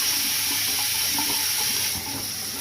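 Water runs steadily from a bathroom tap into a sink during a wet shave, a constant close hiss and splash with no voices.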